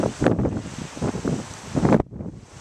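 Gusty wind buffets the microphone outdoors near turning wind turbines, a close rumbling roar with pulsing surges that drops away abruptly near the end.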